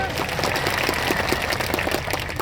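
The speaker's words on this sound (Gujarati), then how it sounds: "એ ડેડિયાપાડા અને સાગબારાની જનતા માટે એકવાર જોરદાર તાળીઓ પાડી લો" A crowd at a political rally in Garbada taluka breaks into loud, steady applause, a dense continuous wash of many hands clapping close by with no pause across the stretch.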